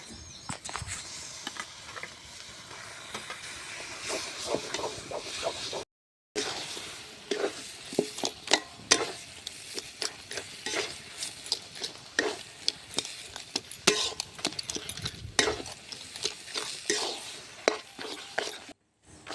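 Boiled taro greens are stir-cooked in a spiced pan, with a spatula scraping and tapping in an uneven rhythm over a soft sizzle, close and moderately quiet.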